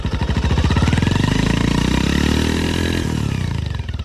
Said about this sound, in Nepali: यसरी हुइँ बाइक कुदाउन थालेका छन् केटाहरूले